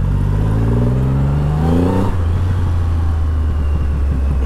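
A Triumph Rocket 3 GT motorcycle revs up hard and close, its engine note climbing quickly in pitch before settling into a loud, rough drone with some clatter.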